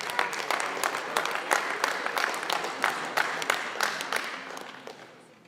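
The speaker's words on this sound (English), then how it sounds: "So give them a nice round of applause, please." Students at a school winter sports assembly give a modest round of applause, with individual claps clearly separated over a light crowd murmur, tapering off toward the end.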